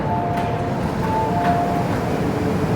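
A metro train at Sham Shui Po Station rumbles steadily and close by, a continuous low roar with faint whining tones drifting over it.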